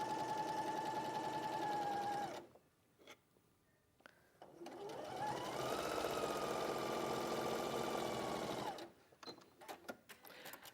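A sewing machine stitches a quarter-inch seam in steady motorised bursts of rapid whirring, pausing briefly in the middle, then ending in scattered clicks and handling sounds.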